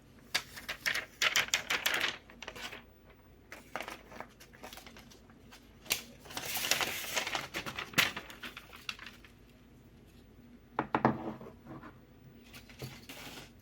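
Butter paper is unwrapped from a new iPad 9th generation during an unboxing, heard as close, irregular bursts of crinkling and rustling with quiet pauses between them.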